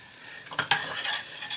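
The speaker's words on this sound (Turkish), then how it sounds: "Ve salçalarımla beraber de bir iki tur karıştırıyorum." A spoon scrapes through tomato paste and chili flakes frying in a pan for cabbage stew, with a couple of distinct stirring strokes over a soft, continuous sizzle.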